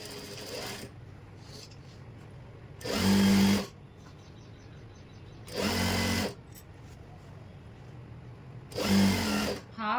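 A sewing machine stitches pant fabric in three short bursts of running, each about a second long, separated by quieter pauses as the cloth is adjusted.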